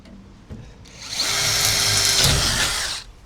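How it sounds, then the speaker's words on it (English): A power drill drills a pilot hole during a van bed install, whirring steadily for about two seconds after a brief clunk, loud and close, then spinning down. "what I'm going to do is just drill a pilot hole"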